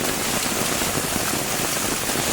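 First monsoon rain falling steadily in Kumbhavade village, Baanewadi, Rajapur taluka, Ratnagiri district in Konkan: a dense, even hiss of downpour at constant loudness, with no voices.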